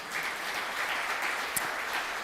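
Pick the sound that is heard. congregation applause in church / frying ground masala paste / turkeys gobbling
congregation applause in church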